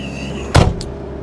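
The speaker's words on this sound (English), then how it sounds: "I'm going to shut the door." A 2009 John Deere 60D rubber-track mini excavator's cab door shuts with one sharp, close thud over a steady low engine hum, followed by a faint rattle.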